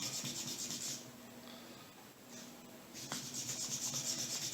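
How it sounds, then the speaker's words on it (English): A cleaning brush scrubs through the chambers of an NAA mini revolver cylinder, giving quiet, close rasping strokes that run in repeated passes with a brief lull partway through. "And I'll get a good scrub through all of them."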